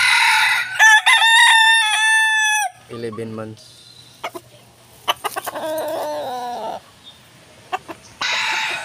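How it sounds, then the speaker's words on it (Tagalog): Fighting roosters and chickens in a backyard flock crow and cluck, one loud crow near the start followed by scattered clucks and another crow, with someone briefly speaking between them. "At dito naman tayo sa mga panlaban na manok."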